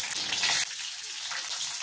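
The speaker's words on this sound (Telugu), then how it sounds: "ఇప్పుడు మనం కట్ చేసి పెట్టుకున్న ఈ పచ్చిమిరపకాయలు వేసుకుందాం." Chopped green chillies dropped into hot oil with cumin for a Telugu chilli fry, giving a loud broadband sizzle that surges for a moment and then settles into a steady crackling fry.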